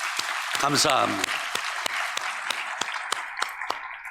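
A church congregation claps for the Shalom praise team during Sunday worship, a moderate round of sparse claps that starts under a short spoken thank-you and keeps going in scattered beats.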